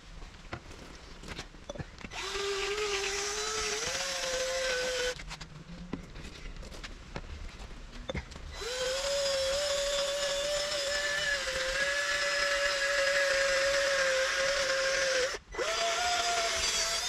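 A sanding machine wet-sands a car headlight with 800-grit paper, giving a steady whining drone that rises in pitch in long sustained stretches, briefly cut off twice, with a broad hiss of water and abrasion beneath.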